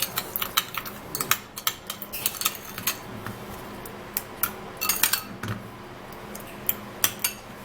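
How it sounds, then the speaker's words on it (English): Sugar stirred into aloe vera, heard up close as a quick, uneven series of bright metallic clinks and taps of a spoon against a small container, with no voices. "I'm going to be taking 1 tablespoon of the sugar into this aloe vera, and then we would have to give it a mix."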